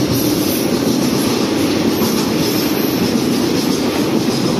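A freight train rolls past Nong Kae station in Thailand, a loud, continuous close rumble of wagons with clattering wheels and faint squeal, no voices.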